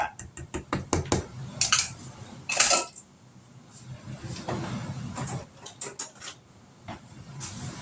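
A metal baking pan for a homemade chocolate cake is handled in a kitchen, giving a run of sharp clanks and scrapes that are loud and close, with a few softer knocks between them and no talking.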